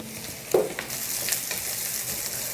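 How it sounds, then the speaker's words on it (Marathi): Finely chopped onion hitting hot oil in a pan, a sharp sizzle burst followed by continuous close frying crackle with faint stirring, no voices. "आता छान सोनेरी होईपर्यंत त्याला आहे ना आपल्याला मस्त फ्राय करून घ्यायचं आहे"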